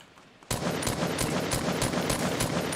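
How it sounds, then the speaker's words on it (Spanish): Rapid automatic gunfire in the video game Fortnite bursts in suddenly after a brief quiet moment, then keeps going as a dense, loud, sustained volley of shots with no talking. "Me están disparando con alguien, creo."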